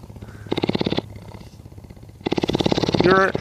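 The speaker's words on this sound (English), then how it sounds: "She's got a big purr." A cougar's deep, rumbling purr comes in pulsing bursts with a pause between, and a brief voice breaks in near the end.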